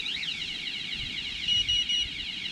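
A boat fishing rod alarm sounds a continuous electronic tone with a warbling high pitch, joined by three short, louder beeps near the end.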